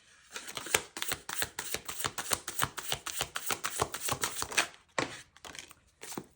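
Tarot cards shuffled by hand during a love reading, a rapid run of crisp, close riffling clicks and slaps in an even rhythm, briefly pausing near the end before a few more flicks, with no talking.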